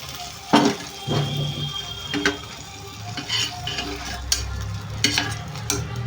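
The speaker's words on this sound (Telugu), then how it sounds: "దీంట్లో కొంచెం వాటర్ వేసి ఇవంతా కలిపేసి పప్పులో వేసేస్తున్నానండి" A spoon stirs and scrapes through a pot of raw mango lentils, mixing in a tempering with water, with occasional metallic clinks over a soft sizzle in the background.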